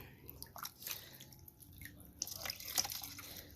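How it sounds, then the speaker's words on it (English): Water drips and splashes as a Norwex cloth is wrung out one-handed, with soft irregular trickles and squishes at close range. "one-handed wringing"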